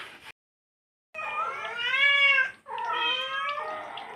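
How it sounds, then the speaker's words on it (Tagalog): Two long, drawn-out meows from a cat, loud and close, the first rising and falling, the second following after a short pause. "Ayan yung aking mga pusa."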